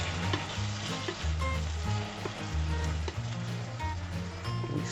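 Tomato goes into a hot pan for tomato sauce, giving a close, busy sizzle with stirring and bubbling, and a low tonal hum running underneath.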